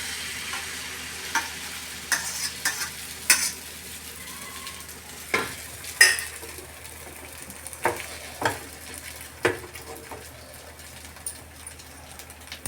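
An omelette fries in a pan with a steady low sizzle, while a utensil scrapes and stirs in irregular close taps and scrapes over it, with no voices.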